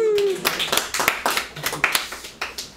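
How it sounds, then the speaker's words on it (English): Scattered hand clapping plays as a crowd cheer sound effect in a home, with uneven claps in quick succession, loud and close, after a short rising tone at the start. "Oh, and the crowd goes wild!"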